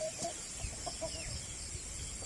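Rhode Island Red chickens in a backyard farm cluck softly in short, scattered calls, faint and close, over a quiet background hiss.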